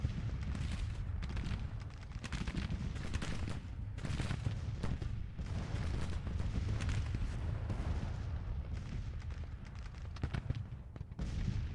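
Civil War battle in the game Grand Tactician, with dense volleys of musket gunfire and booming artillery rolling continuously, rising and falling in bursts at a moderate distance.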